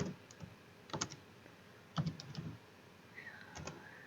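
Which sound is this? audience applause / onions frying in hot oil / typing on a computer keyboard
typing on a computer keyboard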